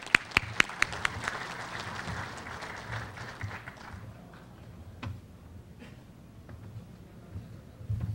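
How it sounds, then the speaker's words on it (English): Audience applause at a sustainable energy education event, a crowd clapping briskly with a few sharp close claps at first, then thinning and fading into scattered claps over several seconds. "let's give him a round of applause if you can indulge"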